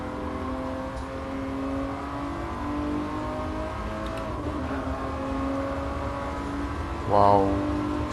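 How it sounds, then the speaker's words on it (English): A 1994 McLaren F1 engine in Gran Turismo Sport revs and pulls hard, a smooth rising whine that steps through shifts, ending with a sharp higher burst, loud and close. "Wow, such a quick car"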